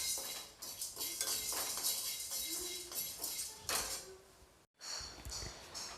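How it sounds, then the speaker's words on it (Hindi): Chana dal and urad dal roasting on low flame in a kadhai, with dry rattling and clinking of lentils and a utensil against metal, scraping bursts that break off briefly near the end, no speech. "अब मैं इसी कढ़ाई में डाल दूँगी चना दाल और उड़द दाल को। इसे भी मैं लगभग आधे से 1 मिनट तक लो फ्लेम पे भून लूँगी।"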